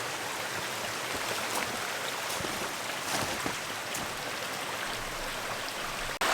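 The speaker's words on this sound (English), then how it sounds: "Nice babbling brook here." A babbling brook flows beside a hiking trail at Lebanon Reservoir, Pennsylvania, on a snowy February morning, giving a steady, close, full hiss of rushing water with no voices.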